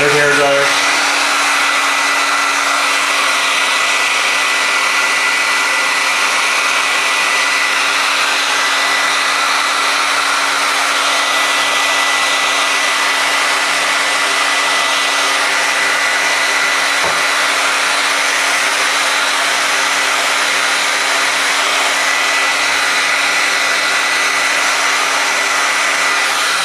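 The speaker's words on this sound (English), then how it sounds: "Standard hairdryer." A hair dryer blows steadily and loudly from start to finish, a constant close-up whirring roar that never changes.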